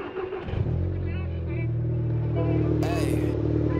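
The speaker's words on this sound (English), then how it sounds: "Car hasn't been driven in 3 days, cold start." A Volkswagen Golf GTI engine fires up from a cold start after sitting for three days, settling into a steady, loud, close idle with a brief higher-pitched whine partway through.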